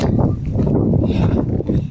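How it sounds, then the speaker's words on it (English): Outdoor wind gusts hard against the microphone, making a loud, low, buffeting rumble that swells and dips over a couple of seconds. "Oh, it's windy."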